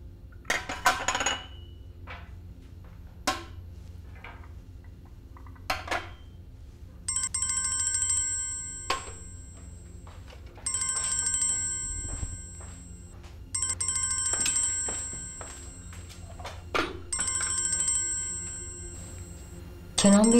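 A mobile phone left behind in a house rings repeatedly, its electronic ringtone coming in several bursts separated by pauses, moderately loud, with occasional clinks and household noises in between.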